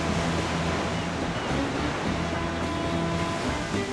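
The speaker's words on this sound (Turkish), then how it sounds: "inanılmaz bir dalga ile karşılaşıyorum" Sea waves breaking on a rocky shore, a loud, continuous roar of surf and spray with no pause, close and filling the scene.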